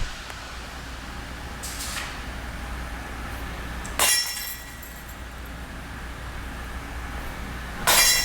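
Disc golf putters strike a basket's chains twice, each a sharp metallic jingle and rattle a few seconds apart over faint outdoor background, with a softer chain clink earlier.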